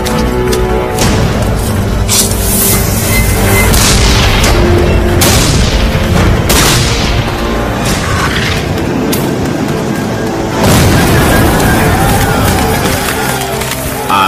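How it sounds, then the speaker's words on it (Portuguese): Repeated heavy cannon booms and blasts crack out over a dense, continuous rumble of Battle of Gettysburg noise, loud and close, with sharp bursts every second or two. "Um saco de pólvora explodia e impulsionava uma bala de canhão de 5 quilos de ferro maciço"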